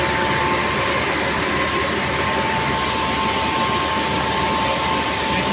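A knitting machine runs hot in a workshop, giving a loud, steady mechanical roar with a constant hum that stays level throughout, with no talk.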